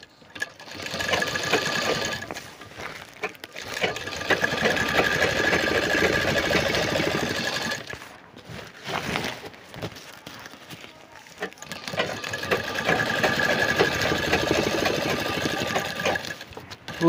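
Sewing machine stitching thin cement bags with a number 18 needle, running in loud steady whirring bursts that stop briefly between seams before starting again.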